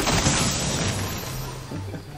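Fireworks bursting from a buried treasure chest in Fortnite give a short run of crackling, booming pops layered over one another, loud and close for about two seconds.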